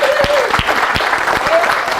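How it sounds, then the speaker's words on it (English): A church congregation at a Divine Fellowship service claps in a short burst of applause, with individual claps standing out through the crowd. "give a huge round of applause to our Daryl"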